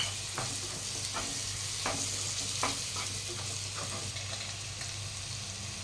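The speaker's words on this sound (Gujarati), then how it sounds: "હવે આપણે 2 ટામેટા રીતે ક્રશ કરીને લીધા એ નાખીશું." Crushed tomatoes hitting a pan of frying masala for a Kathiyawadi stuffed papad curry, with steady hot sizzling and a spoon scraping and stirring in repeated strokes, close and continuous, no voices.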